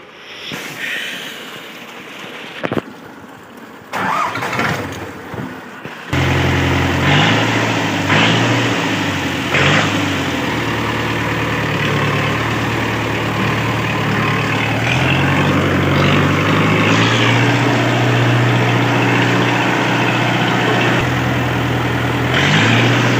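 A tractor engine, moved and parked in the sun on a farm during wheat sowing, starts with a few seconds of quieter shuffling and then settles into a steady, close diesel drone that holds to the end.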